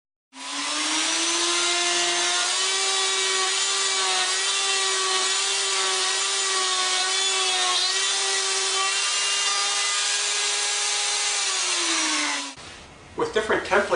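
A router cutting mortises in wood along a template whines at a steady, loud pitch for about twelve seconds, then spins down and gives way to brief clattering.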